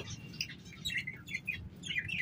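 Green Indian ringneck parrots give soft, short, high chirps and squeaks in quick irregular bursts over a low background rumble, with no talking.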